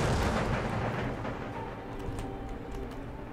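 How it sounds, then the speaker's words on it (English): Cannon salvo from an Empire Total War battle: a dense, loud rumbling roar of massed artillery fire that is heaviest at the start, then settles into a sustained, slightly fainter rolling boom with scattered sharp crackles. "Comes the next salvo."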